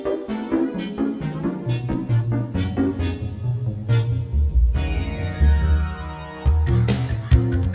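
Soundtrack music from the Gex video game plays on its own, a dense track with a thumping low bass line, layered synth tones and steady percussion hits throughout, with no voices.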